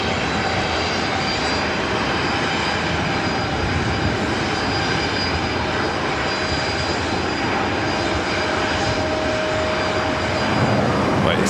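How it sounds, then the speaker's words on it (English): A Delta Boeing 737-900ER jet airliner roars loud and close at LAX, a steady, broad engine rumble holding for over ten seconds with a faint whine on top and no voices. "These 737-900ERs with Delta, they're very loud."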